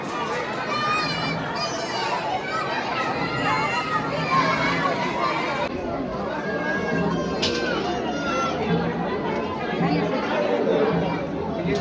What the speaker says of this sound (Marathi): आणि इकडे बघा गर्दी.